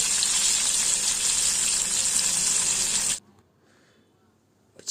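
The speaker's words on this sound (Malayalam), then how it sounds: "ചിക്കൻ ഇപ്പോൾ രണ്ട് സൈഡും ഫ്രൈ ആക്കി എടുത്തിട്ടുണ്ട്." Chicken pieces frying in oil in a pan over a medium flame, a steady loud sizzle for about three seconds that cuts off abruptly, leaving near silence.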